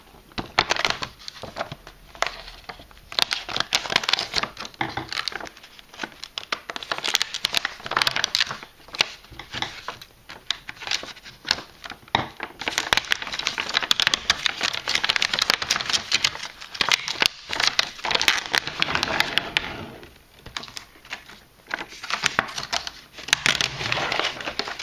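Pokémon Black & White Dragons Exalted booster packs are cut open with scissors, their foil wrappers crinkling and crackling in dense, irregular bursts that run close and steady throughout with no talk.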